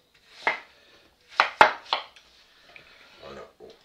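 Knife cutting food on a board in a kitchen while preparing boudin noir with onions and apples, a few separate close chops, then a quick cluster of three, followed by faint softer handling sounds.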